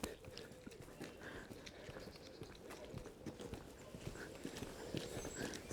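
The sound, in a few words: horse hooves clip-clopping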